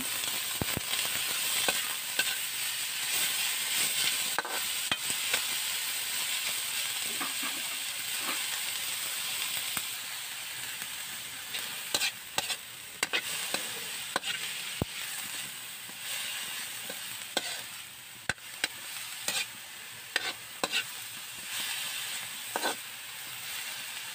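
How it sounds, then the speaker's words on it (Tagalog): Labong (taro shoots) sautéing with garlic in a hot pan, a steady loud sizzle and hiss with repeated scraping clicks of a utensil stirring through. "isunod din natin ang ating labong. Haluin lamang natin ito."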